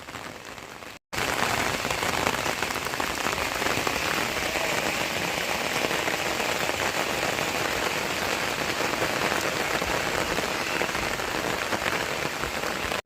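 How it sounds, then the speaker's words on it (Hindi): Heavy rain pours steadily and densely, a loud continuous wash of drops on surfaces after a brief silent gap at the start. "ज़बरदस्त बारिश।"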